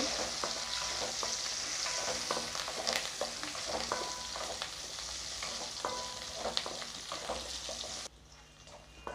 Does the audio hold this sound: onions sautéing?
yes